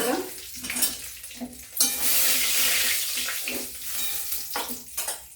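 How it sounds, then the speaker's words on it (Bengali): Rohu fish frying in a pan for a thin curry with potato and cauliflower, giving a steady broadband sizzle with a louder hissing burst partway through, close and continuous, with faint clinks over it. "কড়া করে ভাজবো না মাছ খুব কড়া করে ভাজবো মাছ ছিঁড়ে যায়"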